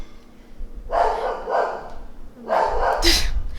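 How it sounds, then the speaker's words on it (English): A dog barks in two short bursts of a few sharp barks each, fairly close, with brief quiet between. "just wait for my dog to stop barking."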